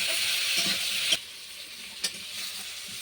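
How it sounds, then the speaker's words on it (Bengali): Fish frying in a pan, a dense hissing sizzle that drops off after a moment, with two sharp stirring knocks, close and with no talking. "ভালো করে এটা নেড়ে নেব ভাজা ভাজা হয়ে গেলে এটা আমি নামিয়ে নেব"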